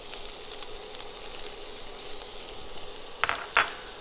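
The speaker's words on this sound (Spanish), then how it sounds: "Vamos a sofreír los vegetales y yo le voy a ir diciendo qué vegetales son los que tengo." Onion sautéing in olive oil for salmon cakes, a soft steady sizzle with a couple of sharp clinks of a utensil against the pan near the end, no voices.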